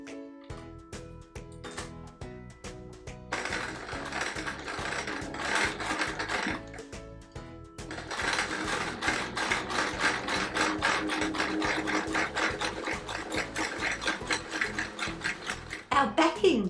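Sewing machine stitching green gold dot quilt backing fabric, a steady rapid needle chatter that speeds up and runs continuously, close by, after a brief start-stop at the beginning.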